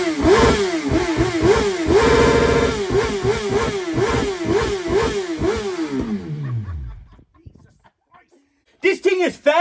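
A motorcycle engine revs hard in repeated rising and falling bursts, loud and close, then winds down through a long falling sweep to near silence before a sharp rev returns at the end.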